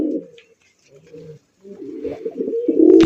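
A white golla pigeon coos in a few low, throaty bursts, starting and breaking off, then swelling into a louder, fuller coo at the end, heard up close with faint voices around it.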